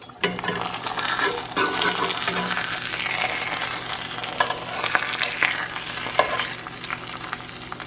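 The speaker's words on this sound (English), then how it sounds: "You didn't know this was a quail egg cooking" A quail egg fries in rendered rabbit fat with a steady, close sizzle and crackle throughout, broken by a few small pops.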